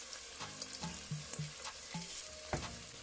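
Oil sizzling and spitting in a pan while ingredients for Nigerian party-style jollof rice fry, with short bursts of stirring and crackle at close range over a steady frying hiss.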